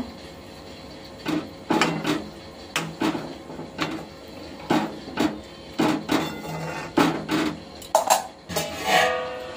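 A curry with chopped coriander being stirred in a pot makes a steady series of knocking, scraping utensil strikes, roughly one or two per second, close and distinct, with no talk.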